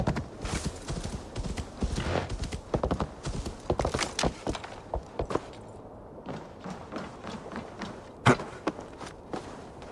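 Horse hooves clip-clopping in Assassin's Creed Valhalla, a fast rhythmic run of hoofbeats that slows and thins out, with a sharp thump near the end.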